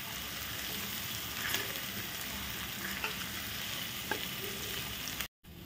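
Spicy paste sizzling and frying in hot oil for a tempering while being stirred, for a winter horse gram shengole dish; a steady close crackling hiss throughout with occasional sharper pops, then a brief cut near the end.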